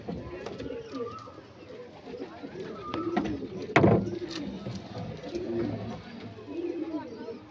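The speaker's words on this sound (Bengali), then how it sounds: "এই হচ্ছে পায়রা" Andhra breed pigeons coo softly and repeatedly in a pigeon house. Someone talks over them throughout, and a louder burst of sound comes near the middle.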